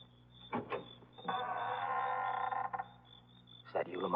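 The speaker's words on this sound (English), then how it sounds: "This must be the cellar door Terry mentioned" Creaking cellar door swinging open as a 1940s radio drama sound effect; a long, loud, strained groan holds steady for over a second, with quieter knocks before it and after it, and no talk.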